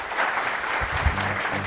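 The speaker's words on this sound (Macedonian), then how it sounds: "Аплауз за Мешевски" A studio audience claps for Meshevski in a short, steady burst of applause that stays fairly close and even from start to finish.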